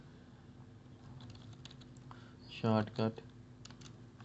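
Typing on a computer keyboard while writing shortcut commands in MS Word, light key clicks running under a voice, broken by two louder spoken bursts.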